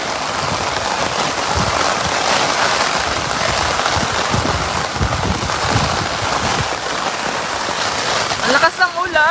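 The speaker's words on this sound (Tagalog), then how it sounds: "Ang lakas ng ulan." Heavy rain pours down steadily during a typhoon flood in Marilao, Philippines, a loud, continuous broadband wash close by, with a voice briefly audible near the end.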